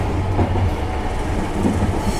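Inside the Dharmawangsa passenger train, a steady low rumble of rolling on the rails runs continuously with faint rhythmic clacking, no voices.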